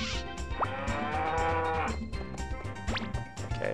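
Cows moo repeatedly in the farming video game Harvest Moon 64, several drawn-out calls overlapping over a looping background tune with small click-like effects.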